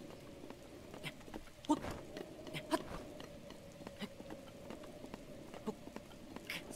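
Rain in the game Breath of the Wild out in the highlands, a soft, quiet patter of drops with scattered sharper taps and a faint steady hum beneath, no talk.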